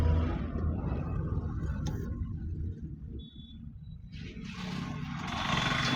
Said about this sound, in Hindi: भाई साहब गाड़ी चलाने में मज़ा आ रहा है,